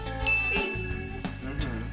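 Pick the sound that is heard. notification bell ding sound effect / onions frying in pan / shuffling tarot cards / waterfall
notification bell ding sound effect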